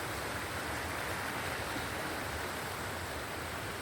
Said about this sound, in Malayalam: പാറക്കെട്ടിനിടയിൽ കൂടി വെള്ളം ഒഴുകിപ്പോകുന്നത് കാണാൻ നല്ല രസമില്ലേ?